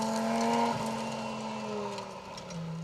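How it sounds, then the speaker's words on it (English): A Group 4 Audi Quattro rally car drives a historic rally stage, its engine note rising and falling at a distance with a faint tyre squeal, and no voices over it. "David Shipton in the Group 4 Audi Quattro, a homage to Michelle Mouton and her 1982 Monte Carlo rally car"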